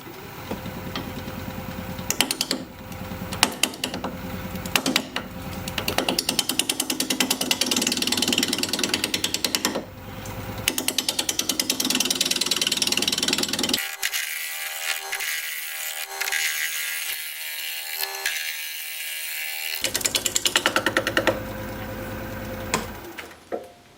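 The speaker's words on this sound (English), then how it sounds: "We're gonna be turning at 580 RPM, 5/8 inch bowl gouge, mask and face shield on." A wooden bowl blank spins on a lathe at 580 RPM while a 5/8-inch bowl gouge cuts it, giving a loud, rough, chattering scrape in long passes, with one quieter gap where the tool lifts away.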